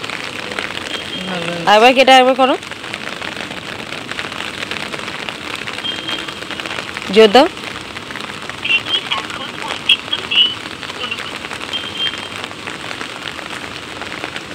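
Heavy rain falls steadily on waterlogged ground, a constant close hiss across the whole stretch, with short bursts of conversation cutting in twice and a few faint chirps in the background.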